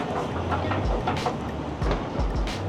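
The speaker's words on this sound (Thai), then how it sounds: "รถไฟมาพอดีเลย" An MRT train pulls into a station platform in Kuala Lumpur, loud and close, with rumbling wheels and rhythmic rail clatter over steady low motor noise, no talking.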